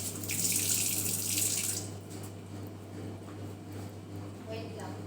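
Food being washed under a running kitchen tap, a steady rush of water loud at first then easing to a softer trickle, with faint voices in the background.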